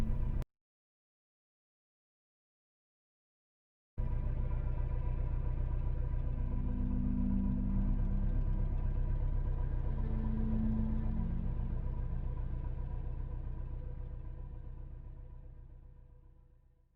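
A car driving along at night, its engine giving a steady low rumble with a faint tonal hum, starting abruptly after a few seconds of silence and holding evenly before slowly fading away at the end.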